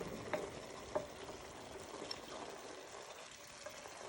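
Onions fry in a pan alongside steak and kidney for a steak and kidney pudding, a soft steady sizzle with a couple of small clinks near the start. It stays fairly quiet and close, with no voices.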